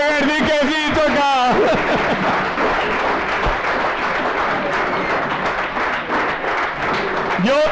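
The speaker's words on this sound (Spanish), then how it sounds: "¡Un fuerte aplauso para el que ha venido a beber!" Audience applause at a homebrewing contest awards gala: a voice rings out briefly, then a dense, steady wash of clapping fills the room and holds at full strength until the end.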